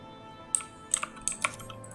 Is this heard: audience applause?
no